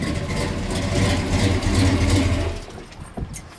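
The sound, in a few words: 1967 Hemi car engine idling at 1,000 RPM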